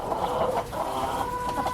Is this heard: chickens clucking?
yes